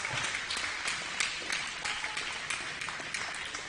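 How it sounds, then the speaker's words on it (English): A crowd outside an aid station at the UTMB Mont-Blanc ultra-trail race claps and cheers in a continuous scattered burst, with sharp individual claps standing out over the general applause. "Now we can hear the crowds outside"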